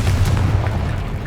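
A Confringo spell blast goes off in Hogwarts Legacy as a loud, deep booming burst that rumbles and fades over about a second, with no talk.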